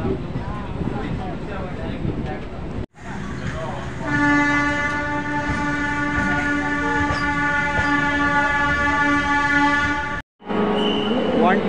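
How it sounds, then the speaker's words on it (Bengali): A train rumbles steadily while a long, loud horn blares for several seconds, then the rolling rail noise carries on, as the Chambal Express leaves Bandel station. "আমাদের ট্রেন ব্যান্ডেল স্টেশন ছাড়লো"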